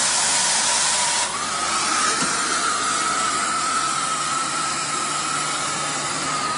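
A Harris 62-5F injector-style cutting torch hisses steadily and loudly, a continuous broad gas rush whose pitch shifts slightly after the first second, with no voices.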